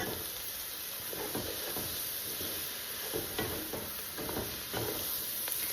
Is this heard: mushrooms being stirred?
yes